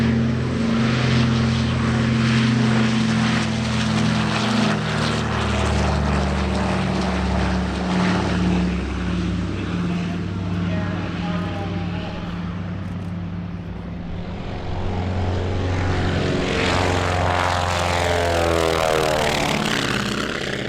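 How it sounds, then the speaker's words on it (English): Piston propeller aircraft, including vintage Douglas C-47 Skytrain and Dakota transports, droning loudly and steadily at the EAA AirVenture Oshkosh airshow, a continuous engine roar that dips slightly mid-pass before swelling again. "D-Day veteran C-47A Skytrain Placid Lassie, and the Verus Jet Sales C-47B Dakota"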